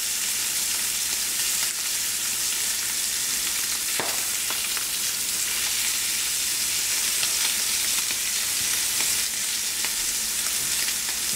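A sous vide New York strip steak sears in a smoking hot pan on a stovetop, giving off a loud, continuous sizzle and crackle with a few sharper pops and no talking.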